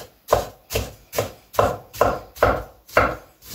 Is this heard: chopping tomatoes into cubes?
yes